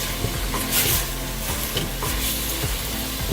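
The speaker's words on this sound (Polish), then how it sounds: "warzywa mi się trochę tu już podsmażyły" Steady sizzling and crackling of vegetables frying in a pan, with occasional scraping stirs, continuous and close.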